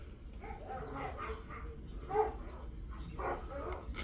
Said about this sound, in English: You probably hear my dogs barking.